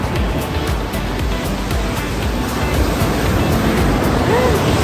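Ocean surf rolls continuously onto Enoshima beach, a broad steady wash of breaking waves heard close by with light wind noise on the microphone.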